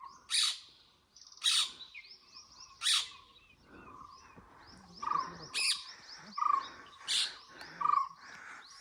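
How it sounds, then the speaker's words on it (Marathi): Repeated loud, shrill parrot calls in short bursts, about eight over several seconds, with softer chirps in between, close by from a branch in dense Sahyadri forest. "मस्त पोपट बसलाय"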